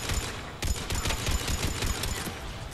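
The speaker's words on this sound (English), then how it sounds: "That guy should not have started shooting at me while I'm all the way up here." Rapid gunfire from a multiplayer match of the video game Mass Effect 3 rattles in a dense, continuous fusillade of close, loud shots.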